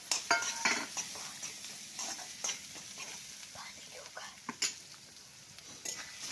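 Peas tip into a pan of sizzling oil with cumin and coriander powder, then a spoon scrapes and stirs them in quick, close, uneven strokes over a faint frying hiss.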